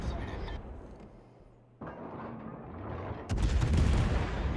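Heavy naval gunfire in World of Warships, with a German battleship Kurfürst shooting during a heavy cruiser match: booming blasts and rumbling battle noise that swell louder toward the end, mixed with game effects.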